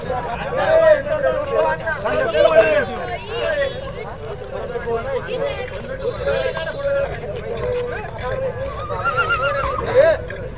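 About a dozen horses on a long group ride up to a fort, with repeated loud neighs and whinnies over hoof clip-clop and a murmur of voices in the background.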